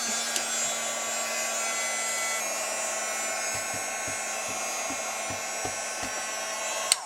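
A handheld heat or air dryer blows steadily on ink on a mixed-media craft card case, a constant close whine and rush of air lasting throughout with a few faint clicks.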